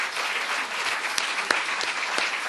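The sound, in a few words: audience applause for sports award winners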